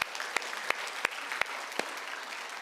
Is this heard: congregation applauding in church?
yes